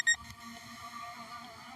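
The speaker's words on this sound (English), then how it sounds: "Now it's beeping." A short, high electronic beep at the start from an SJRC F22S RC drone, followed by a faint, steady electronic hum with soft low rumbling.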